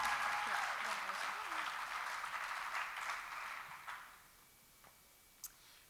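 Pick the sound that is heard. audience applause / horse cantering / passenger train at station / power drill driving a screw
audience applause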